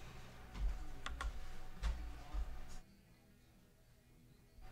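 Keys clack on a third-generation Freewrite smart typewriter, a handful of separate presses with soft thumps in a quiet room, followed by near silence.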